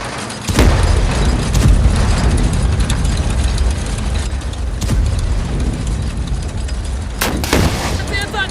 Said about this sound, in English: It's anti-tank fire!